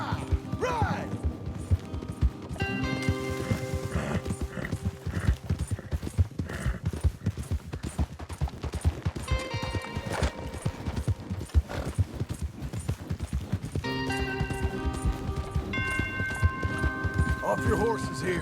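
Horses galloping in Red Dead Redemption 2, a steady rapid clip-clop of hooves running throughout under a game music score, with characters talking over it.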